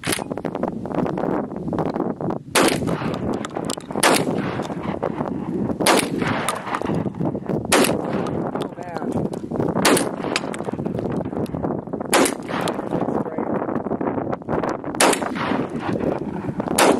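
Shotgun blasts of Aguila number 8 birdshot fired at pumpkins outdoors, roughly eight sharp loud reports spaced a second or two apart over wind noise and rustling.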